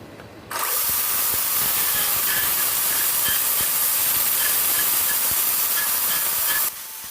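A battery chainsaw converted for wood carving runs at steady throttle for about six seconds, giving a loud, continuous hissing whine with faint chattering from the chain, then cuts back to a quieter idle.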